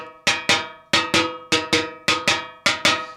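Snare drum tapped near the lugs during tuning, about a dozen sharp ringing strikes in pairs with short decays, close and bright, no voices.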